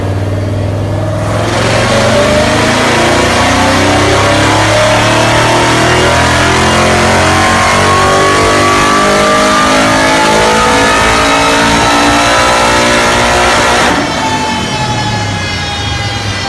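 A 1968 Ford Mustang fastback with a supercharged Ford Racing Aluminator Coyote crate engine and 2.3 liter Ford Racing supercharger roars loudly and close, the pitch climbing and falling through sustained revs before easing off near the end.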